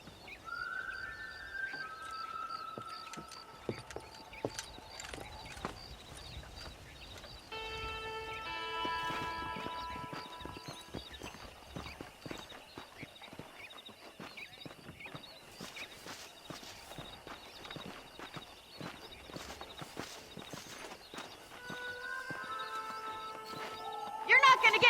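Hooves plod steadily across the ground while a horse whinnies now and then in a Red Dead Redemption Western ranch scene, with spoken dialogue, birdsong and game music running underneath throughout.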